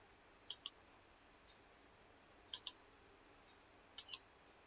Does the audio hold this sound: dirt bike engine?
no